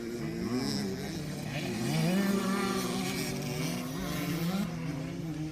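Several motocross motorcycles race at a local meet in the Saône plains region, their engines droning and revving together in a continuous, fairly loud roar that rises and falls across the pack.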